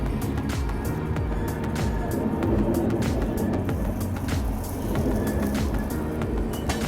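Shram Shakti Express running inside a 3AC coach, a steady loud rumble and rattle of the moving train with clicking wheel beats throughout, no voices.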